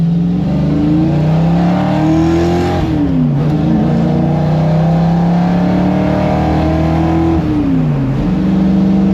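Onewheel electric board motor accelerating, a loud, steady whine that climbs in pitch, dips briefly, then rises again in a second surge, running close and continuous with no talk.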